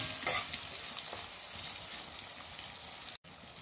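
Curry sardines sizzle and fry steadily in a pan, a dense continuous crackle with a brief scrape as the fish are flipped, no voices over it.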